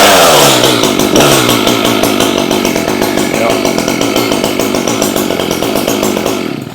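An Echo small-engine power tool fires up after being flooded and having its choke pushed in, loud and close, running at a steady high buzzing idle with a rapid pulsing rhythm before easing slightly at the end.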